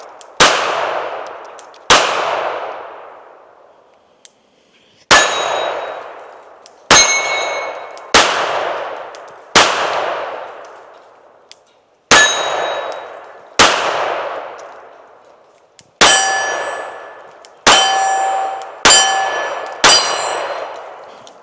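Hellcat .380 pistol shots ringing off steel targets outdoors, about a dozen loud, sharp cracks each followed by a long metallic clang and decay, fired singly and in quick pairs with pauses between.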